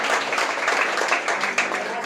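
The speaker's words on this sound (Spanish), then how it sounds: "Dale un aplauso al Señor." Congregation in a church breaks into a short burst of dense applause, many hands clapping close by, with a voice faintly underneath.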